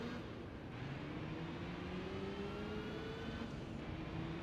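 A race car engine in Gran Turismo 3 drones steadily during a beginner league race, its pitch rising slowly as the car accelerates, sustained and fairly even in level with no talking.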